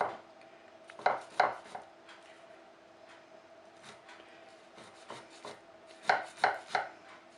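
A knife scores baklava in a baking pan with a series of sharp chopping taps against the metal, some in quick pairs, spaced by quieter pauses over a faint steady background hum.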